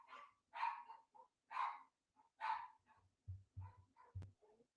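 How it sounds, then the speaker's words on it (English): Chihuahuas barking indoors, a run of sharp high-pitched yaps in quick irregular bursts, fairly close and loud, with a few short lower thumps between barks. "Oh my gosh, you guys hear my dogs?"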